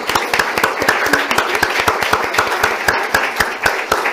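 Audience applause at a Polish book event for Dorota Masłowska's "Bowie w Warszawie": dense, steady clapping from a full room, loud and continuous throughout with sharp individual claps standing out.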